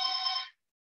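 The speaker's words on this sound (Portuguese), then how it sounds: "o telefone estava tocando" A telephone rings during a physics lecture, one short electronic burst with bright steady tones that cuts off abruptly after half a second, followed by silence.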